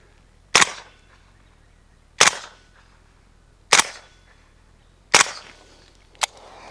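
A KR9 fitted with a JMac Customs Banka suppressor fires subsonic rounds, four sharp evenly spaced suppressed cracks about one and a half seconds apart, followed by a smaller click, each shot brief with a short decay.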